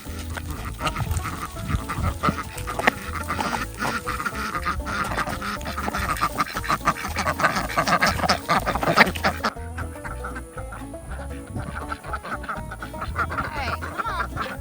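Several ducks quack close by in a busy, overlapping chorus that continues throughout, loud and steady, thinning slightly toward the end.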